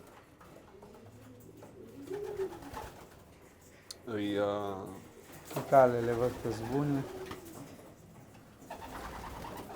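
Breeding pigeons in a loft coo softly in the background, mostly under close conversation between people.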